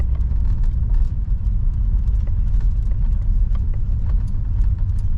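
A 1968 Chrysler Imperial 440 V8 idles steadily and smoothly, with a low rumble and a faint ticking patter over it, continuous throughout.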